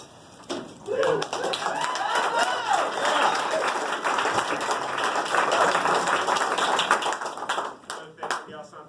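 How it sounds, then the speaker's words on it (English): Applause from an audience at a news conference on cap and trade passage fills the room, a dense spread of clapping that swells and holds for several seconds before tapering off. "For acknowledging the applause line."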